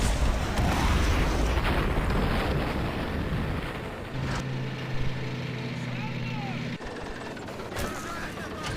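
Panzerfaust rockets blast against tanks in the Men of War strategy game amid a building full of infantry, with booming explosions and rattling gunfire layered over a droning engine hum as someone talks throughout.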